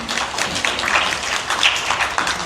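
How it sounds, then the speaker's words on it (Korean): An audience at a 2025 parliamentary forum on agricultural policy applauds with a dense, steady wash of clapping that fills the whole short stretch at close range. "박수로."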